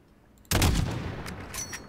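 A single sharp sniper-rifle gunshot from about 400 metres in a video game bursts out loudly after a brief quiet, followed by a lingering echoing tail and faint sharp clicks.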